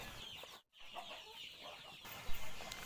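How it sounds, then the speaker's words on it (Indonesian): Free-range village chickens cluck steadily while pecking at a mixed corn feed, a close, moderately quiet flock with no talking. "teman-teman bisa melihat gimana lahapnya ayam-ayam ini makan ya"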